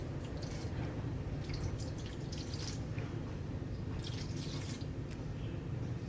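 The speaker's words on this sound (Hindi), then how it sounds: "पानी डालेंगे हम इसके अंदर।" Water pours steadily from a measure into chicken bread dough in a kitchen, a continuous close trickle with small splashy drips throughout and no talking.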